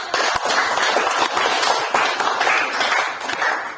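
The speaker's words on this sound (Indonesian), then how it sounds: "Berikan aplaus untuk kita." Classroom applause from a group of students, a dense, loud stretch of hand clapping with uneven bursts that continues steadily without speech.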